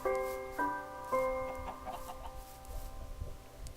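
Clucking chicken in a blocky survival video game, two or three sharp tonal squawks close by at the start, then fading into softer rustling game noise.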